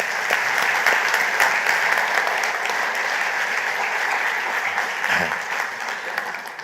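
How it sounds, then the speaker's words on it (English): A conference audience applauds steadily, a dense wash of clapping that holds for several seconds before tapering slightly. "Please give them a round of applause."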